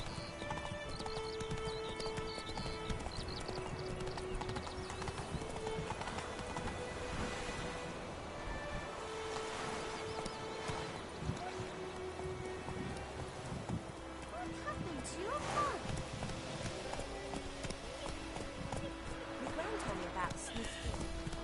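Roach the horse gallops in The Witcher 3, with steady rhythmic hoofbeats running throughout alongside game music and occasional whinnies, while characters talk over the top.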